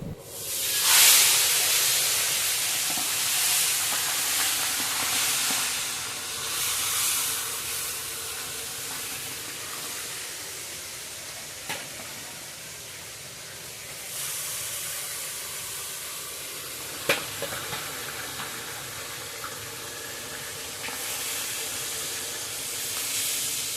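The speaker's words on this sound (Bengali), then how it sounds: "মুড়ি ঘন্ট ডালের জন্য মাছের মাথাগুলো ভেজে নিচ্ছি।" Fish heads fry in hot oil for muri ghonto dal, cooked in bulk for a 200-guest function. A loud, continuous hissing sizzle fills the whole stretch, broken by a few sharp spatters, with no talk.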